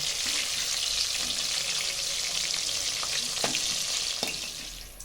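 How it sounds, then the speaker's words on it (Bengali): KFC-style chicken pieces fry in hot oil, giving a steady, dense sizzle with a few soft clicks and stirring knocks near the end, fading slightly at the close, with no talking. "আমি কড়া করে সব চিকেনগুলো ভেজে নেব"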